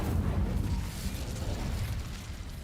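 A fiery Incendio spell goes off in a video game, a loud rumbling whoosh-like burst that starts strong and fades slowly into a roaring tail, with no voices.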